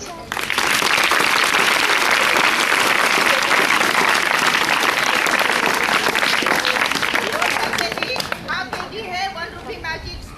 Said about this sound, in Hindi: हाथ नीचे लीजिए और तालियां बजाइए